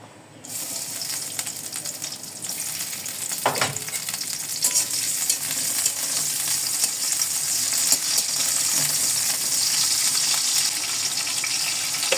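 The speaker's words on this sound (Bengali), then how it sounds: "এবার ঢেঁড়স ভাজি করে নিই।" Okra frying in a pan in a home kitchen, a steady loud sizzle building after a quiet start, with a brief clatter of stirring partway through and no talk.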